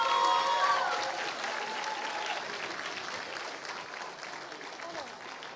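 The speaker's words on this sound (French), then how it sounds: "On peut l'applaudir une dernière fois quand même" Audience applause at a master's degree graduation ceremony, loud at first and then fading to a steady, thinner patter of clapping hands. A voice is briefly audible over it near the start.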